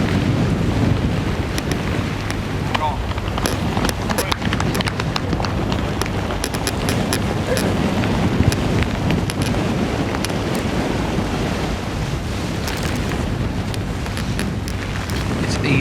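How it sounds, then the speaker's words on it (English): Strong gale wind buffets an open golf course, a loud, continuous roar of gusts battering the microphone, with irregular rustling surges and no voices. "It's easing up to a gale now"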